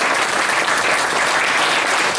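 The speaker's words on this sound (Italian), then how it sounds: "io vorrei cominciare intanto con nel fare un fortissimo, caloroso, immenso applauso ai nostri direttori Esere e Andrea." An audience at a tenth-anniversary celebration in Ravenna claps for its directors, producing a steady, loud, dense wash of applause with no voices standing out.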